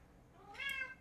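A single short cat meow, clear and fairly close, rising and falling over about half a second against a quiet room background.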